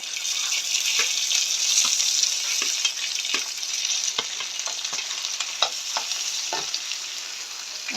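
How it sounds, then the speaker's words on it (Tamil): Curry chillies sautéing with onion in a pan for a Jaffna-style fried fish curry, a steady close sizzle with periodic scraping stirs throughout, no talking. "இதுக்குள்ளே வந்து நாங்கள் இப்போ கறிமிளகாயை போடும் கரிமிளகாய் கொஞ்சம் வதங்கினா வெங்காயத்தோடு சேர்ந்து நல்லா"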